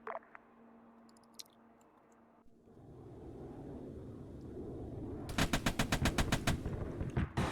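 Bursts of rifle and machine-gun fire in the military shooter Arma 3 crackle in rapid rhythmic volleys, growing louder and denser toward the end after a quieter opening with faint distant shots.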